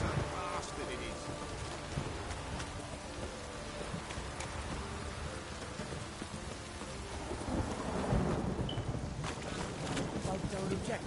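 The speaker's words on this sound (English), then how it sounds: "This downpour's a bastard, it is." Heavy rain pours steadily throughout with a low rumbling undertone, a dense constant wash of noise that swells slightly toward the end, in the video game The Witcher 3: Wild Hunt.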